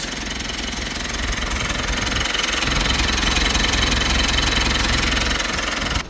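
A Mitsubishi L200 pickup's diesel engine idles steadily up close, a loud continuous knocking clatter with a low rumble that holds evenly and cuts off at the end.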